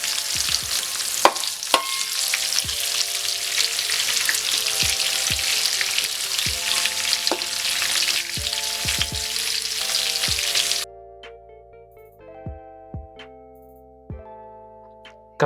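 Onions sizzle and fry in a hot pan with occasional stirring scrapes, a steady crackling hiss that drops off partway through, leaving quieter taps and clinks.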